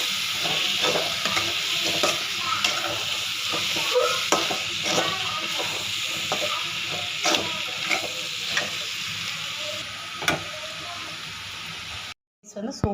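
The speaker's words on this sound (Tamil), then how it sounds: "இப்போ சாப்பாடு போட்டு கிளறிக்கலாம்" Vegetable egg fried rice with peas, soybeans, carrot, beans and cabbage being stirred in a hot pan, a continuous sizzle broken by repeated scraping strokes of the spatula, ending in a brief cut to silence.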